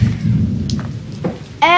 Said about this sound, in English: I just heard thunder.